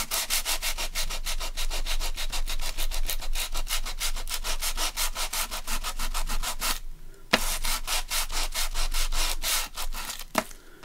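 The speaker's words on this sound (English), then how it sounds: "So when you sand it, you get craft showing through," A sanding block rubs back and forth over craft paper card, giving loud, rhythmic rasping strokes at a fast even pace, with a short pause near the middle and no talk.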